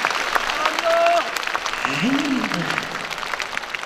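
Festival crowd at a traditional Korean pumba performance claps in a short burst of applause, mixed with a performer's voice and melodic sung notes; talk continues over the clapping.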